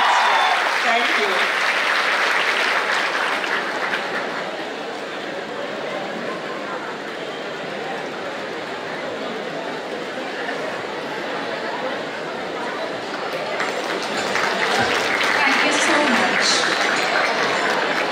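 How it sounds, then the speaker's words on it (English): Sustained applause from an audience at a university cultural program, a dense, loud, continuous clapping that dips slightly in the middle and swells again toward the end, with crowd chatter mixed in. "so they deserve a big round of applause"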